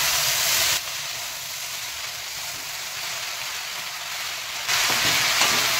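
Jute leaves and red amaranth greens fry in a pan with spices, a steady broadband sizzle that dips softer for a few seconds in the middle, then swells loud again, with no voices.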